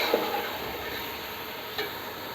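Chicken pieces sizzle and fry in a pan with ginger and garlic for chicken pulao, a steady close crackle with a couple of light stirring clatters.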